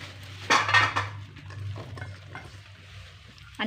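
Mutton (marakli style) added to a pan and stirred with a metal spoon, clattering and scraping against the cookware with a soft low simmer underneath, close and moderately loud, no talking.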